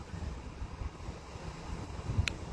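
Wind buffeting a microphone outdoors on a cold evening, a low, steady rumble with soft gusts and one brief louder puff near the end.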